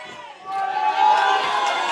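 A live crowd at an indie intergender wrestling show roars and cheers, the noise swelling midway and holding at a loud, dense level, with faint voices shouting through it.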